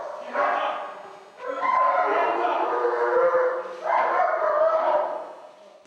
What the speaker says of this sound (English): Delta Officer Matt Fage and his dog Blade go in first.